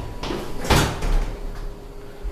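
A Thyssenkrupp elevator door in a Kentucky museum slides shut with a soft rumbling whoosh, a single closing motion peaking midway and fading into low hum, heard nearby with no talking.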